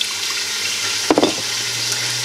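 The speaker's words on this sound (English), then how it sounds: "Going to add some water. This is water from my tap" Tap water poured into a vessel of sourdough starter in a home kitchen: after a steady hum, a short splashing gush of water lands for about a quarter second, then stops, close and fairly loud.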